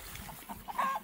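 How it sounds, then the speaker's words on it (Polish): Chickens on a small goat farm give a few soft, brief clucks at a distance, faint and outdoors, with no voices. "No kurki znowu uciekną. No tak, kury uciekają."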